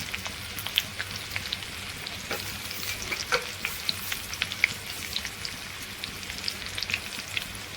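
Garlic, ginger and chilli crackle in butter and oil for paneer bhurji, a dense close sizzle full of fine spitting pops with occasional light stirring, steady throughout and free of speech.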